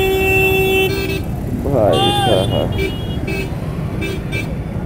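Roadside traffic jam with several car and truck horns honking in short and sustained blasts over a constant engine rumble, while someone talks nearby.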